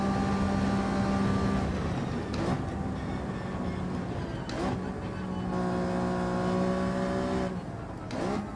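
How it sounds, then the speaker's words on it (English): A car approaches and passes in the Gran Turismo 7 racing game, played in multiplayer on PSVR2 at a night setting, with a steady engine drone that rises and falls in sustained harmonic tones throughout, continuous and fairly loud. "Car's coming."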